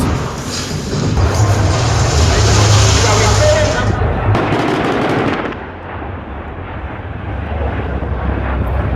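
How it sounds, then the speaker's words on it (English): American military aircraft roar loudly overhead during a siege in Deir ez-Zor, with a heavy, sustained engine rumble that fades after a few seconds and then returns, mixed with what may be distant gunfire. "I see planes in the sky."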